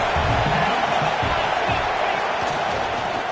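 A football stadium crowd roars loud and constant as fans try to rally the defense for a red zone stop, a dense wall of cheering and noise with no gaps.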